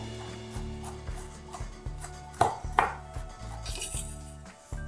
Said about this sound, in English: I'm gonna take about 6 dates, right? And I'm gonna just slice them up quick